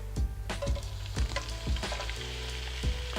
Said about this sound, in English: you want to hear that sizzle immediately as it drops